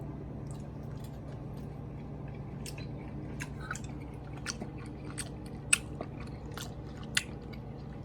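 Cooked chitterlings being chewed up close: soft, wet bites with occasional sharper crunchy clicks, scattered irregularly over a steady low hum, with no talking.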